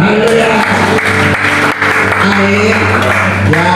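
Applause during a church service in a Jakarta apartment, with loud clapping mixed with sustained tonal sound, likely music or voices, throughout.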